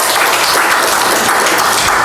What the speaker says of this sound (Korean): 박수 한번 쳐드리시죠